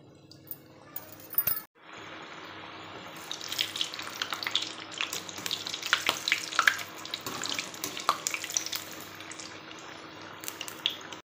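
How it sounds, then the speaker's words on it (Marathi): Shankarpali frying in hot oil: after a brief quiet moment, a steady bubbling sizzle starts, dotted with sharp crackles and pops, close and fairly loud until the end. "झाले तेल गरम. आता तळून घेऊ."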